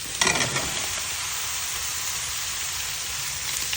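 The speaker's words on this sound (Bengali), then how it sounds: "মাছগুলো সেটা আমি দিয়ে দিলাম ভেজে নিচ্ছি" Fish pieces fry in a spiced masala of sautéed bottle gourd, giving a steady, close hiss of oil with a brief burst of spattering and stirring at the start, no voices.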